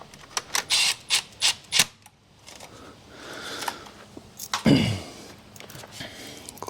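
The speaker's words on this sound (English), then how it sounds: "Click back our wiring harness." Wiring harness connectors on a 2009 Mercedes AMG coupe being clipped back in, a quick series of sharp plastic clicks followed by quieter handling and rustling, then a louder scrape.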